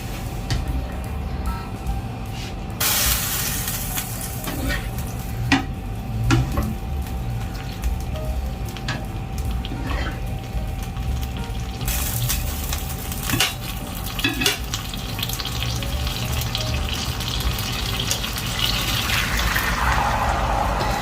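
Fideuá with free-range chicken frying in a pan on a lit burner, with a steady sizzle and repeated scrapes and clinks of a utensil stirring against the pan, close and continuous.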